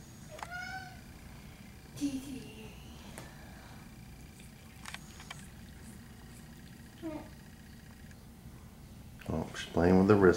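A sphynx cat meows indoors, several short cries spaced through quiet room tone, with people talking softly between them and a louder burst of sound at the end.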